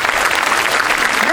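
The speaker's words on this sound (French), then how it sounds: "on peut les applaudir. Bien fort." Dense, steady audience applause at a welcome evening event fills the short moment, loud and close, with no break in the clapping.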